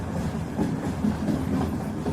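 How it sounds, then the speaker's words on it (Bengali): A train rumbles and rattles steadily over an iron bridge spanning a dry riverbed, a continuous low clatter of wheels and carriages with no break. "ট্রেনটা তখন একটা লোহার সেতুর ওপর দিয়ে পার হয়ে যাচ্ছে ঝমঝম শব্দে"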